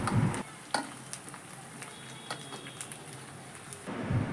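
Large brinjal pieces fry in ginger garlic paste with a soft, continuous sizzle, broken by a few light ladle clinks and louder stirring rustles at the start and end.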